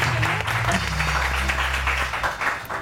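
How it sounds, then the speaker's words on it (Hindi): Studio audience applause on a morning television show, broad clapping over a steady low hum, continuous and fairly loud throughout. "जोरदार तालियां"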